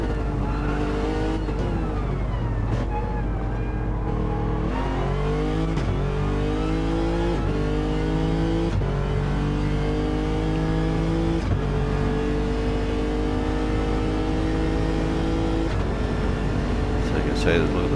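Race cars in Gran Turismo 7, during a 90-minute endurance race with retro liveries, rev and accelerate continuously, with engine tones repeatedly rising and dropping through gear changes.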